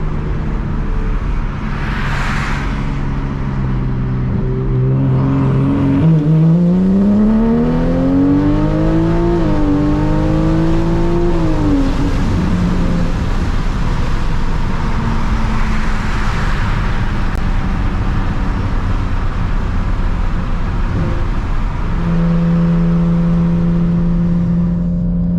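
An MK5 Toyota Supra with a Remnant Performance turbo kit accelerating hard on a street at low boost, loud and close with the engine note sweeping up through gears, dipping between shifts, then settling into a steady drone.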